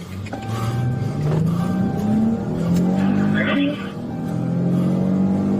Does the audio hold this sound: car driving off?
yes